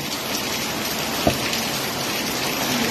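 Steady rain pours down with a constant hiss, with a single brief knock partway through and no voices.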